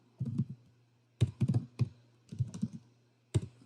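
Keys on a computer keyboard clatter in quick, uneven bursts of close, crisp clicks with short pauses between them as a C program is typed in an editor.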